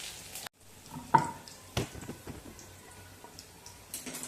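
Green chillies and curry leaves fry in hot oil for a North Karnataka Betageri chutney, a soft close sizzle broken by a few sharp clinks and scrapes of stirring in the pan.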